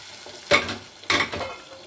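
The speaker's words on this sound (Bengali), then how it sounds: "এবার ডালটা দিয়ে দেওয়ার পরে খুব ভালো করে এই মশলার সাথে মিশিয়ে ফুটতে দেব।" Boiled dal being stirred into fried masala in a pan for Punjabi dal tadka, two distinct wet scraping stirs over a low background sizzle.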